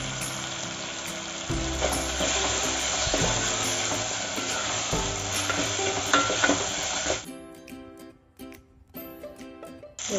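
Onion and tomato with turmeric sauté and sizzle steadily in a pan for a bungalow-style cowpea pod curry, with frequent stirring and a few utensil clinks, the frying thinning toward the end.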